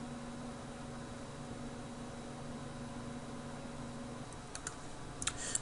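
Computer keyboard typing and mouse clicks at a desk, faint keystrokes over a steady fan hiss, with a few sharper clicks near the end and no voices.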